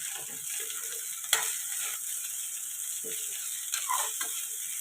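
Egg fried rice sizzles steadily in a pan over a high flame, a continuous bright hiss with occasional clinks and rattles as the rice is tossed and stirred. Frying is close and moderately loud, and no one speaks.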